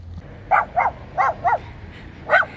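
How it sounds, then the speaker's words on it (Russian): Two dogs on a street give short barks and yips: a quick burst of four barks, a pause, then one more, heard fairly close over low background noise. "Эй, Собаченьки."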